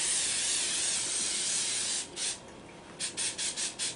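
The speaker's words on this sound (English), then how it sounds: "Spray the tops with some spray-on oil." Spray-on cooking oil is misted onto food on a baking sheet, starting with a long continuous hiss, then a few short bursts in quick succession, close and clear.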